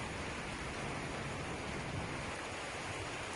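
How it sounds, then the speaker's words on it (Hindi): Light rain drizzling steadily at night in an open courtyard, a soft continuous hiss without pauses throughout. "ये बूंदाबांदी, ये सुहाना सुहाना मौसम"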